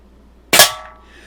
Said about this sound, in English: what I'm doing is pumping first, then putting in the pellet, closing the bolt, and then shooting